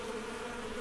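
Stingless bees buzz at their hive in a steady, continuous drone, close and even in level, with no voices over it.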